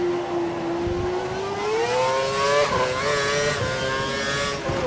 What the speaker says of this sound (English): The car behind is running on full revs.